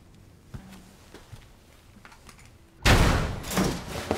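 Sudden loud burst of gunfire in Resident Evil 2 Remake, a dense rattling volley erupting after a quiet stretch of faint footsteps and ambient rustle, staying loud to the end.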